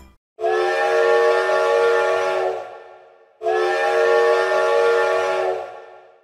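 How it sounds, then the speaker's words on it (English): Two long, loud blasts of the out-of-tune 5-chime whistle of Canadian National Railway number 3254, as used in a Super Mario game, each a steady chord of about two seconds fading at the end, separated by a short gap. "it uses the iconic out-of-tune 5-chime whistle from Canadian National Railway number"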